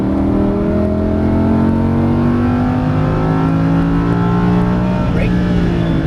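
Lamborghini Huracan LP610-4 on a racetrack, its engine pulling hard under throttle with a loud, steady rising drone and climbing pitch held close and constant throughout, over faint road and wind noise.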